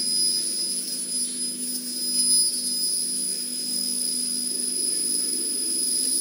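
A Prima Power sheet metal line, combining a punch press and laser with a cartesian LSR robot and a bending automat with turntable, runs with a steady mechanical drone and a constant high-pitched whine, continuous and unbroken with no voices.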